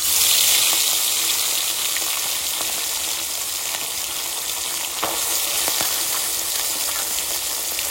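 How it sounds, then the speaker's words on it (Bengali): Fish frying in hot mustard oil in a pan, a steady loud sizzle that holds evenly throughout without any break. "তেল গরম হয়ে গেছে, এবার মাছ দিয়ে দেবো।"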